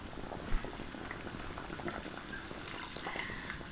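A pot of Chinese snow fungus (tremella) dessert soup simmers on the stove, giving a steady, close bubbling and seething hiss with a few small pops throughout, with no voices.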